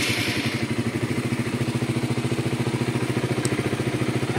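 An old Honda CBR motorcycle, a Thai build, runs close by with a loud, steady, rapidly pulsing engine chug throughout.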